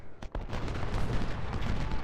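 Massed musket volleys and artillery fire in the strategy video game Ultimate General: Civil War, a sharp crack followed by a continuous rumbling roll of distant battle.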